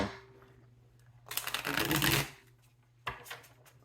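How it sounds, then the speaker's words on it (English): A deck of tarot cards is riffled and shuffled in a quick rustling burst, followed by a shorter flutter of cards against a quiet hum. "So we want to shuffle our Shadow deck here."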